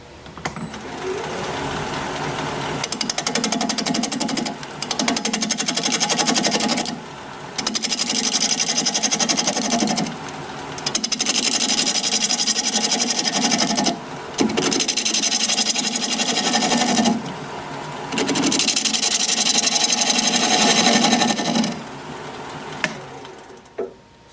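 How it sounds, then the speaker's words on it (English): An olive wood dish turning on a wood lathe at 700 RPM as a 5/8 or half-inch bowl gouge cuts it. Loud, steady whirring and scraping runs in long passes, broken by short pauses between cuts. "We're going to be turning at 700 RPM, 5/8 or half-inch bowl gouge,"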